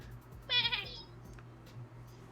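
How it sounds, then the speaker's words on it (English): A goat gives a single short, wavering bleat at moderate distance over a low background rumble, then only faint ambient noise follows. "That was a goat."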